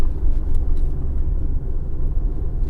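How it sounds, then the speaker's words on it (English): A 1.6 diesel car pulls along in second gear, its engine a loud, steady low drone and road rumble heard from inside the cabin, with no talking. "I mean, I'm only in second gear, but so far so good."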